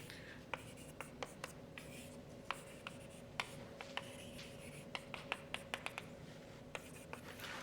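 Chalk or marker writing on a board during a math lecture on integrals and elliptic curves: a steady run of scratchy strokes and sharp taps, close and clear, over a constant room hum, with no talking.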